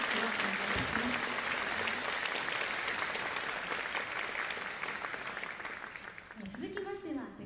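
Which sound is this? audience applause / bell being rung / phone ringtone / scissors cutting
audience applause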